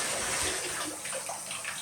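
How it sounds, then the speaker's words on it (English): Water rushes and gurgles steadily as it drains from a bathtub, a continuous close hiss of flowing water without voices. "So water's going away, and bathtub as well."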